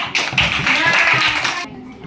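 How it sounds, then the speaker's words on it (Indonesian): Brief burst of classroom applause for a student group about to present, a mix of claps and children's voices that breaks off abruptly near the end. "Beri tepuk tangan kelompok 1"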